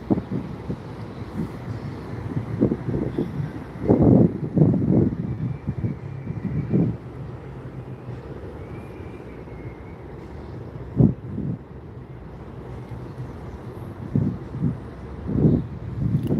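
Breezy outdoor wind buffeting the microphone in low rumbling gusts that rise and fall irregularly, strongest around the middle and near the end, with no voices.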